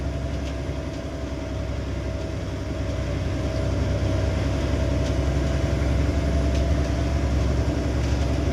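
Engines of large motor launch boats at sea rumble as a steady low drone, close and continuous, growing slightly louder over time with no talking.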